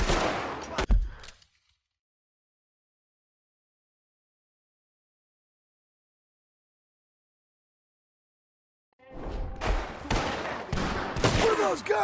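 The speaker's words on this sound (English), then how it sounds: "What are those guns they have?" Video game gunfire in bursts: a loud volley at the start, then several seconds of silence before a dense, sustained fusillade of shots resumes near the end.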